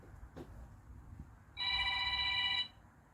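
A telephone rings once, an electronic warbling tone about one second long, heard moderately close over a quiet room with faint rustling before it.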